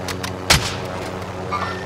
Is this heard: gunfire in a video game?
yes